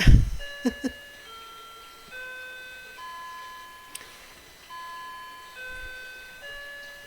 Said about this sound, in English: there goes my clock again. Right on the hour.